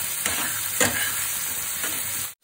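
Mutton being stirred and fried in a kadai, a steady close sizzle with a few louder scraping stirs spaced through it, cutting off abruptly at the end.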